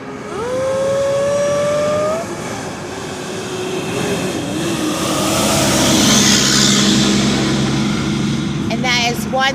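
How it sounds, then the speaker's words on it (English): Loud truck passing by a park bench outdoors, engine roar swelling from a distance to a close, heavy peak and lingering rumble, following a brief rising tonal whine at the start, with no talking over it. "Here comes a truck."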